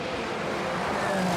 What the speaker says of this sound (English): that's JJ Lehto in the champion car, nipping past the yellow Pilbeam